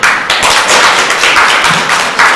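An audience at a poetry collective event applauds, a dense burst of clapping that stays loud and continuous throughout the short stretch, close and without speech.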